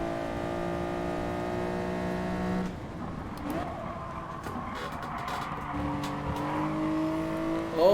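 A race car engine in Gran Turismo Sport, racing at Sardegna circuit, revs steadily and then drops as it changes up early through the gears. It stays loud and close, with faint tire squeal and a few brief clicks mixed in.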